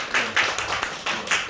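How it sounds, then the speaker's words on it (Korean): A church congregation claps briefly together, several bursts of applause close by in a reverberant room, with no talk over them. "박수."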